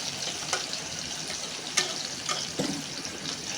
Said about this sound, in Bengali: এখন লাল লাল করে সুন্দর করে আলুটা ভাজবো